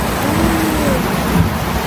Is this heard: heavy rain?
yes